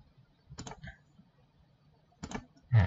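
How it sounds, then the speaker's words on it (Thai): Two short pairs of crisp computer mouse clicks sound close by against a quiet background, about two seconds apart, followed by a louder clatter at the end. "ตรงนี้คลิกสัก2จังหวะนะครับ"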